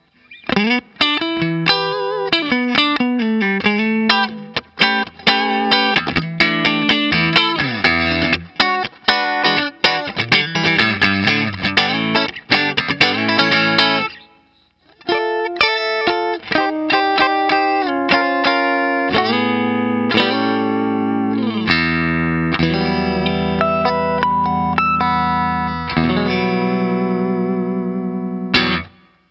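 Charvel Guthrie Govan Signature electric guitar on the neck and middle pickups, with a glassy, slightly hollow tone, plays quick chords and single-note runs through a compressor, washed in reverb and effects, pausing briefly midway.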